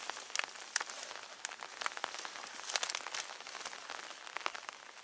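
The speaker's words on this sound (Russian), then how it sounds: "Дождь очень сильно разошелся." Heavy rain pours in a forest beside a river near abandoned ruins, a dense patter of drops with sharp close splashes and crackles throughout, fairly faint and without talk.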